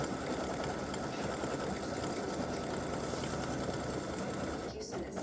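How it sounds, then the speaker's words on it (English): A sewing machine stitching an appliqué design runs in a steady, continuous whir throughout and stops briefly near the end, with a voice faintly present beneath it. "while I was stitching, I realized I didn't cut this out"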